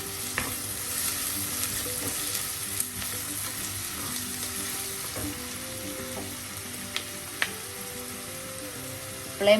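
Green peas and onions sauté in a pan with a steady, close sizzle, punctuated by a few sharp clicks and scrapes of stirring, with no voices.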